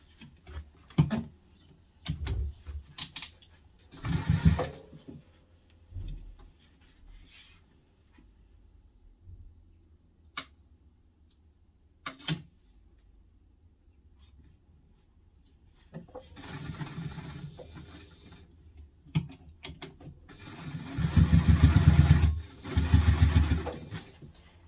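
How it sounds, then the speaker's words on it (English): A sewing machine top stitching a backpack runs in short bursts with pauses between, then in longer, louder stretches of rapid mechanical whirring close by. "first of all, we're going to top stitch"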